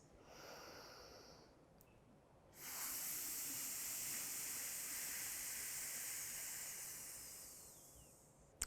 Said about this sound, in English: blow all of the air out on a long F sound